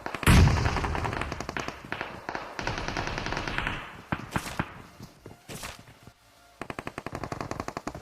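In the battle royale game PUBG, a close burst of rapid automatic gunfire gives way to scattered single shots and thuds, a quieter gap, then another run of fast machine-gun fire.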